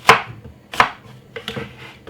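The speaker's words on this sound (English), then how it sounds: "I'm going to cut off a piece of a red apple right here" A knife chops through a red apple on a cutting board with three crisp, separate cuts, each a sharp close knock followed by a short fade.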